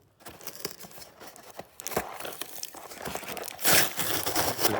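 Close crinkling and tearing of sticky tape being cut and pulled from a package, in irregular bursts that grow louder toward the end.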